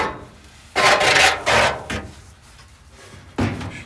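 A steel gas tank is rubbed and bumped into place in the trunk of a 1967 Mustang S Code convertible, giving a few loud scraping, scuffing bursts with short knocks and quieter shuffling between them.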